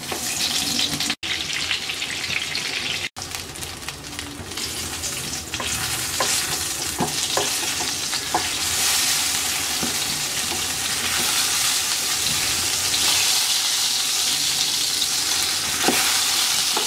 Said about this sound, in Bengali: তেলটা গরম হয়ে গেছে, বেগুন দিয়ে দিচ্ছি।